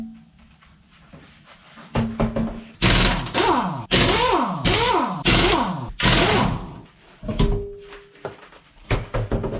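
An air impact gun zips wheel lug nuts off a C7 Corvette on a garage lift. Several loud, close hammering bursts come in quick succession, with quieter clanks and short rattles between them and no talking.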